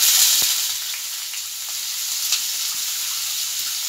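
Chopped onions go into hot oil with mustard seeds and sizzle steadily for a chicken kachori filling, a close, even frying hiss with no talk over it.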